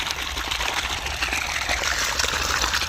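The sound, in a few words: water gushing from 2-inch solar pump pipe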